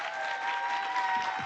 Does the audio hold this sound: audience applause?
yes